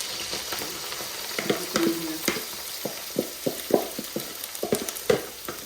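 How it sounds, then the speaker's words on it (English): Cabbage and collard greens frying in very hot canola oil, a steady close sizzle broken by repeated clinks and scrapes of a stirring utensil against the pan, with no voices. "now we have canola oil here that's already heated. So we're gonna add the cabbage and collard greens to it."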